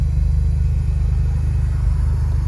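A Ford Escort van with a newly welded drive shaft drives along the road, giving a steady, close engine rumble with a rapid regular pulse and no voices.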